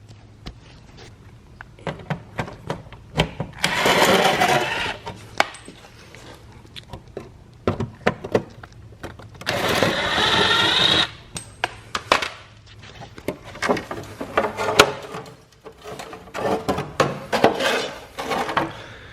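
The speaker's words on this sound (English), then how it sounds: "that exposes 2 more 7 millimeter bolts right here that we're going to take out" Two 7 millimeter bolts being removed from a car wheel well during disassembly for painting, with scattered metallic clicks and taps, a couple of longer ratcheting or rustling stretches, near and moderately loud.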